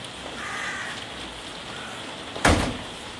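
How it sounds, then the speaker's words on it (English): Heavy rain teems down steadily over an outdoor lawn bowls green, a constant close hiss with a sharper splash burst near the end and no voices. "you can see the rain's teeming down"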